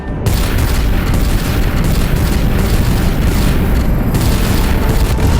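Weapons in the Telltale Guardians of the Galaxy game pour fire onto the Celestial, a loud, unbroken wall of booming, rumbling blasts that holds steady throughout with no voices.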